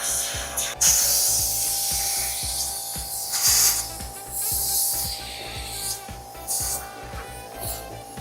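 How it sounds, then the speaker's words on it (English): Compressed air from an air hose blasts through the air filters of a TYM T574 tractor during a 500-hour service, loud close hissing bursts that surge and ease repeatedly under a low steady engine hum, with no talking. "Let's get an air hose and clean out the filters."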